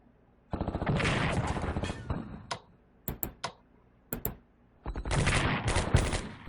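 Bursts of gunfire and artillery as a unit attacks an artillery position in the Strategic Command WWII strategy game: two long rattling volleys separated by a few sharp, separate shots, loud and close.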